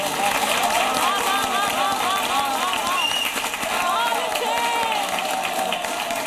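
Audience applause at a Hindi poetry recital, dense steady clapping from a crowd heard under a voice and bits of background music throughout.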